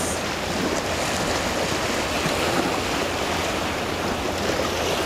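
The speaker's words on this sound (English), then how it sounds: "Just tuning into the sound of the ocean waves." Ocean waves wash in a steady, dense roar of surf, constant and fairly loud throughout, with no voices.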